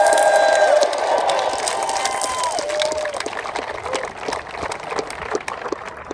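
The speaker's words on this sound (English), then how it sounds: "And then a huge cheer for our winner" Spectators cheer and applaud Formula E winner Sebastian Buemi at the 2015 London race podium, a dense outdoor roar of clapping and shouting that gradually thins out.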